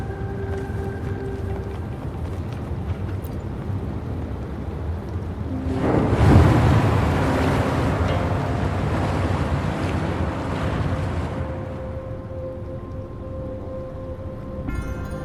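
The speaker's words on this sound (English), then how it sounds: "The water level just dropped again" Rushing, surging water in Wuthering Waves as a water level drops, a broad wash that swells suddenly midway, holds loud for several seconds, then eases back to a low ambient hum.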